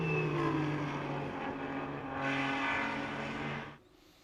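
TC America touring race cars at Watkins Glen roar past in a sustained, moderately loud engine drone with shifting pitch, before cutting off abruptly near the end.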